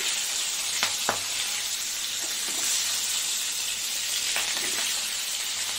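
Giant river prawns, marinated and with legs left on, fry in hot oil with a steady close sizzle and hiss that runs without a break, marked by a few sharp spattering pops.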